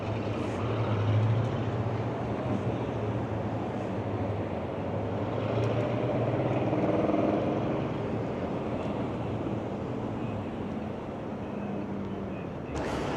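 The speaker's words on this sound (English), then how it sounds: "just see all these 80s cars driving up and down the street" Steady stream of 1970s and 80s cars cruising up and down Sherman Way, a continuous broadband traffic roar with low engine rumble that swells and fades as vehicles pass, heard from the roadside with no clear speech.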